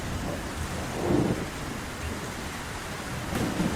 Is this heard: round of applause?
no